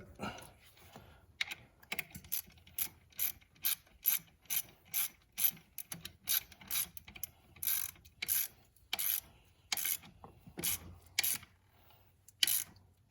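A ratchet wrench tightens an alternator bolt on a Chevrolet Silverado, giving a long run of crisp, close clicking bursts in a steady back-and-forth rhythm, each stroke a quick rattle of pawl clicks with brief pauses between.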